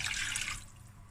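Warm saffron water pours into a pot of rice, giving a soft splashing trickle for about half a second that fades into faint dripping.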